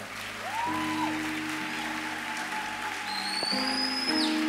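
A church congregation claps in sustained applause under organ or keyboard chords with sliding tones, the clapping steady and moderately loud throughout.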